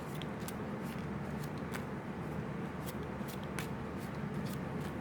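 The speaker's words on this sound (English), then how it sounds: "Give it a casino shuffle." A deck of trading cards gets a casino shuffle: scattered crisp card snaps and soft riffles over a steady low hiss, close and fairly quiet, with no voices.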